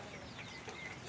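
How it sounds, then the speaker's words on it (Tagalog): Rhode Island Red chickens cluck softly close by, a brief patch of low murmuring hen sounds over faint background noise. "Yan yung mga Rhode Island Red ko."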